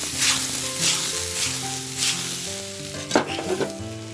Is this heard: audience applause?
no